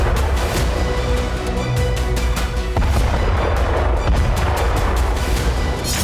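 Artillery strikes hit a convoy carrying Ukrainian soldiers and ammunition, heard as a dense series of loud booming blasts and cracking reports fired in rapid succession over a continuous rumble.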